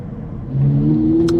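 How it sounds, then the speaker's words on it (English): A loud Ferrari drives close behind at night, its engine revving up and rising in pitch, heard from inside a BYD Atto 2 DM-i, with no talk. "we have a loud Ferrari next to us and actually behind us."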